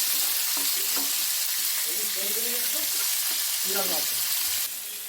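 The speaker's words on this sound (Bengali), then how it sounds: "প্রচণ্ড গরম দিচ্ছে, এই দেখো একটু পেঁয়াজ দিয়ে দিচ্ছি আমি।" Sliced onion hitting very hot oil in a home kitchen pan while crab curry is being cooked, giving a loud, steady, close sizzle that continues throughout, with faint voice-like sounds underneath.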